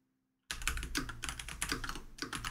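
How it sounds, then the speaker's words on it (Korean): Rapid clatter of keys on a computer keyboard begins abruptly after a short silence, continuing as dense, close typing with brief pauses. "그냥 키보드로 쓰겠습니다."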